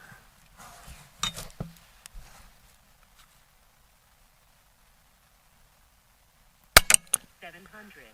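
A Western Airguns Rattler .30 air rifle fires once at a 50-yard sighter, set low on its power adjuster: a single sharp crack late on, closely followed by a smaller snap, with faint rustling before it.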